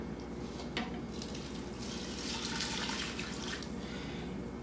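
Water pours in a soft, steady stream into a container, close and fairly quiet, with a brief splash near the start.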